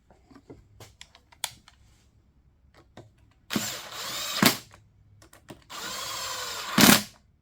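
A power tool drives bolts into a John Deere LT150 engine in two loud, close whirring bursts of about a second each, each ending in a sharp rise, with scattered light clicks and taps between them.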